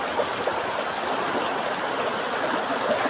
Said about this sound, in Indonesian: Wahangan letik, wahangan sungai kecil ya.